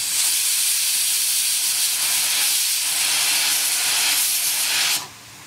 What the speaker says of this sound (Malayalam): നമ്മുടെ കുക്കർ ഇപ്പോൾ രണ്ട് വിസിലും വന്നിട്ടുണ്ട്